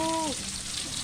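Close, steady sizzling of food frying in hot oil, a dense hiss throughout, with a short voiced sound at the very start.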